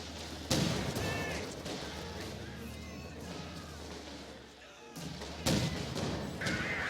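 Heavy anti-tank gun shots boom twice with sharp impacts on a tank in a strategy video game, followed by rumbling debris and crashing, amid a steady mechanical drone.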